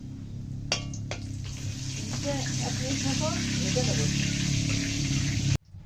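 Asafoetida hitting hot oil for a pea kachori filling: a metallic clank, then a steady, soft sizzle that builds and holds for several seconds before cutting off, with a voice speaking over it.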